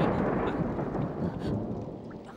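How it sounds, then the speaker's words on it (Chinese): Thunder rumbles low and heavy in a Chinese martial arts television drama, with a steady wash of rain beneath it that slowly fades over two seconds. "师兄，我怕打雷。"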